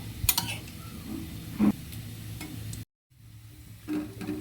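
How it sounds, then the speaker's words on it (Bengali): Chopped onion and cumin seeds tempering in hot oil for a beef dish, a soft steady sizzle broken by clinks and scraping stirs, with a short silent break before the frying resumes. "আর পেঁয়াজ আর হলো জিরা একসাথে ফোড়ন দিছি"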